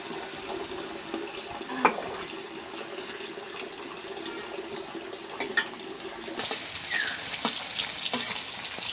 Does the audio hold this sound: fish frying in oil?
yes